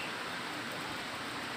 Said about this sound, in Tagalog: Hangin po ang malakas. Hindi po ang ulan.